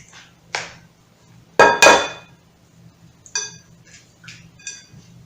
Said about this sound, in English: Let's crack these eggs.